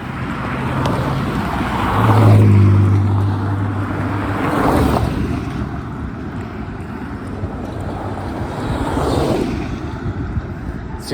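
Cars pass on a city street at night, a continuous low traffic rumble with a few engines swelling nearby and fading, mixed with wind noise.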